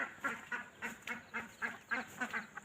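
Ducks by a village road in the morning quack in a quick, regular series of about nine calls, fairly close but soft, with no voices over them.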